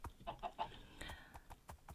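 Chicken in Minecraft clucking in a few short, quiet bursts close by, with faint clicks and light background noise.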